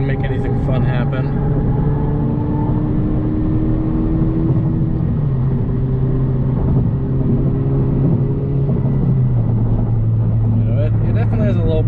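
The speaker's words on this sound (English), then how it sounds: "We're going up to a couple little curves here, so we'll get some downshifting and see if we can make anything fun happen." 10th-generation Honda Civic Si engine heard from inside the cabin while driving through curves, a steady droning hum whose pitch shifts with gear changes, with a voice talking briefly at the start and end.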